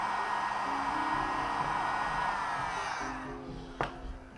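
A heat tool blows steadily while lightly warming Thibra thermoplastic for wand-making; the fairly quiet, even whoosh holds throughout, then a brief click or knock near the end as it eases off.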